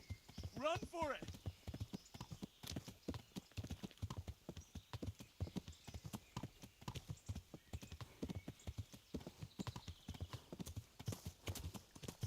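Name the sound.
horse neighing in video game Kingdom Come: Deliverance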